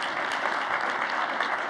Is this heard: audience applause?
yes